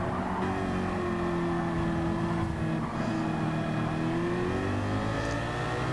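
Race cars in the video game Gran Turismo 7 give a continuous loud engine drone, with gear changes shown as rising and falling pitch and other cars audible in the mix.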